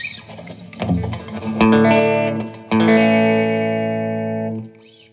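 A Telecaster electric guitar with a bright, twangy tone plays a few ringing chords through a Harley Benton Tube 15 amp set to 1 watt, each left to sustain and decay with reverb set just under halfway.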